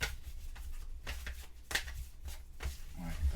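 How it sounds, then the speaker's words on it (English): Cardboard city tiles from a solo board game are shuffled by hand close up, making a series of quick papery scrapes and soft clacks, with a voice speaking faintly underneath. "There's nothing on the back, so you can shuffle them up."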